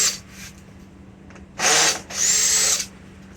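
A Harbor Freight power drill spins out bolts on a 2012 Volkswagen CC during engine removal. It gives two loud, close whirring bursts after fainter earlier runs.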